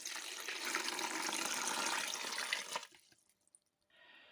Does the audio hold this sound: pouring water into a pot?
yes